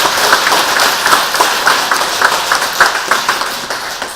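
A church congregation applauds a choir, sustained close clapping from many hands in an even, dense patter with no talk over it.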